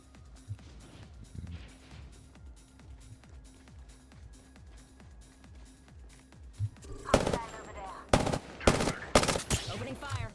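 Bursts of automatic weapon fire from the battle royale shooter Apex Legends, loud rapid volleys breaking out near the end after a stretch of quieter rhythmic game sounds and distant shots.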